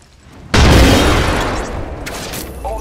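A frag grenade detonates in Apex Legends gameplay, one sudden loud boom that rumbles and decays over a couple of seconds, with faint game sounds trailing after.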